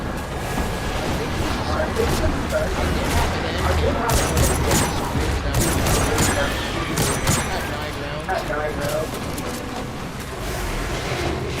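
Rapid gunfire from a sidearm or hand cannon in the video game Destiny 2 crackles in dense bursts alongside game explosions and effects, with players talking over the action.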